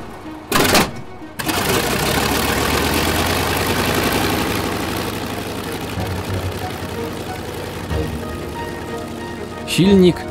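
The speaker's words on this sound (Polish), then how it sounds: "Silnik szybko wszedł na właściwe obroty." An aircraft piston engine starts with a few loud coughs, then settles into a steady, even drone as it comes up to running speed; near the end a brief voice sounds over the engine.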